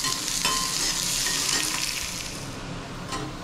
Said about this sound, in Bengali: এর মধ্যে আমি রসুন আর শুকনো লঙ্কা, রসুনটা থেতো করে রেখেছিলাম আর শুকনো লঙ্কাটা দিয়ে দিলাম।